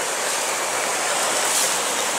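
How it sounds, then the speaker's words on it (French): A brook flows in the early morning while water is collected from it, a loud, steady, close rush of running water that fills the moment without a break or any voices. "c'est parti pour remplir l'eau dans le ruisseau de bon matin"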